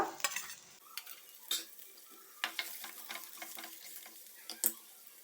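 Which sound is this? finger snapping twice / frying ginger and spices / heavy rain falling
frying ginger and spices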